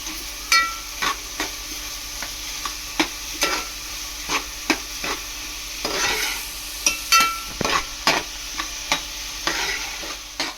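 Salted onions frying in a pan for pav bhaji, sizzling steadily beneath frequent sharp spatula knocks and scrapes against the pan, close and fairly loud.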